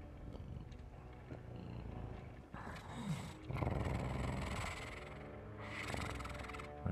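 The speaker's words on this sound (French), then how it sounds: "un grognement lourd" Heavy, low growls of large wild cats like cougars, heard as an ambient effect during a tabletop fantasy dice game: quiet, rumbling snarls rising and falling in a few drawn-out swells.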